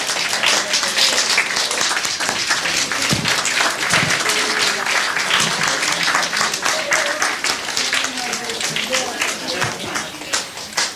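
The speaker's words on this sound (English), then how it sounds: "Mark, Dominic, Christine, Perla, and Mike a round of applause" Sustained applause from an audience at a residents council meeting, steady and dense throughout, with a few voices calling out beneath the clapping.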